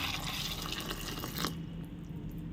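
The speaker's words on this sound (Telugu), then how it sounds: "వీటిని నీట్గా కడుక్కుందాము." Water splashes and trickles in a bowl as about 30 grams of dried prawns are rinsed by hand. The close, steady swishing drops to a quieter background hiss partway through.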